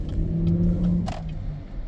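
A passing car's engine revs with a sustained steady hum that rises and then fades, close and fairly loud, with a brief sharp noise in the middle and no talking.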